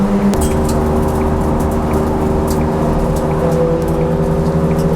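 A budget track car built for about £1000 runs on a race track, its engine droning steadily and close from an in-car position, with faint rattles and no talking.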